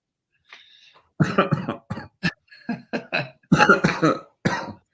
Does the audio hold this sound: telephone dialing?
no